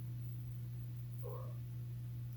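A pet house cat lets out one brief, faint meow in the middle of the clip, heard over a steady low electrical hum in a quiet room.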